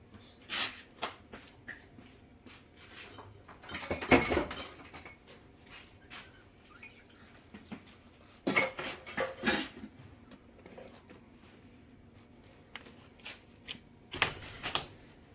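Dry ingredients such as semolina and salt being mixed with oil by hand in a bowl, giving soft, gritty rustling and shuffling with a few louder scraping bursts, close up and without talk.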